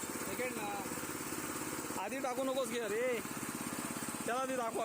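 Small farm tractor engine chugging steadily as it is driven, a close mid-pitched putter with changing revs, while someone talks over it.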